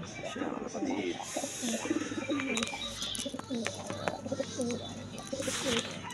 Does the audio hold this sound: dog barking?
no